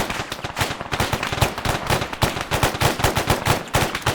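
Arma 3 video game gunfire in a war battle: rapid, steady bursts of automatic shots, loud and close, continuing without a break and with no voices.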